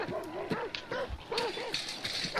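Several dogs in the video game Hunt: Showdown bark and yip in short overlapping bursts, fairly close, with a whimpering tone between barks.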